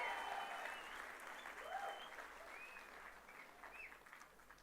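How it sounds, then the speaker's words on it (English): A large audience at a DevFest developer conference in Bangalore gives a round of applause, heard as a faint, distant wash of clapping across a big hall, with scattered voices and cheers over it. "give yourself a big, big round of applause for making the biggest ever Devfest."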